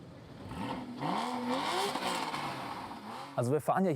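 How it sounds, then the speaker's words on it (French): Mercedes-AMG GT-R sports car engine revving, a rising and falling whine under a man's speech, with a couple of sharp throttle blips at the end. "L'accélérateur est essayé avec impatience"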